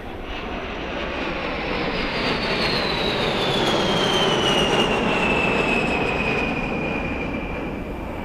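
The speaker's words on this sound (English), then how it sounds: "B-52 flying right over my head here in a matter of seconds." A B-52 bomber's jet engines roar steadily overhead during an air and sea show over Miami's South Beach, a loud, sustained broadband rumble with a slowly falling whine as the aircraft passes.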